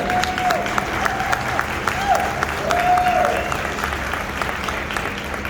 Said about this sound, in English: give the 10 kids, as well as all the other kids that came in and out today, a big round of applause